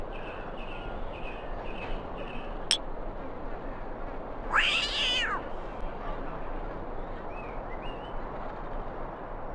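A cat gives a single clear meow in the PS1 game Disney's Story Studio Mulan, standing out from a quiet, steady ambient backdrop with a few faint softer sounds.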